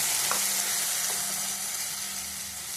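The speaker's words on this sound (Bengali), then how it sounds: "টমেটোটা ভেজে নিলাম।" Tomato and chili paste frying in a pan with black cumin, a soft steady sizzle with faint stirring clicks throughout.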